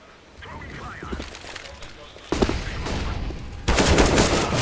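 Pistol and rifle gunfire in a Counter-Strike: Global Offensive pro match, with bursts of rapid cracking shots growing louder toward the end under the rapid commentary of a caster.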